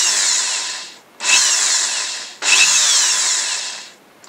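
Small drill bit held in a collet boring a precise hole of about 1.2 mm while adapting a Tessar camera lens to M39 mount, three close, loud, steady whining bursts separated by short pauses, no talking.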